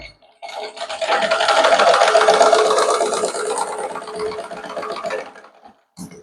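Sewing machine stitching blouse fabric in one steady run of rapid needle clatter and motor whir, close and continuous for several seconds before stopping with a brief click.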